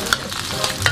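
Sizzling hot oil as scallion, ginger and chili are stir-fried in a wok, a steady close crackle with quick scraping stir strokes.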